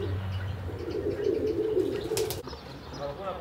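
Pigeons being released in Larissa, Greece, with low cooing and wing flutter blending into steady outdoor murmur, a brief sharp flapping burst near the end.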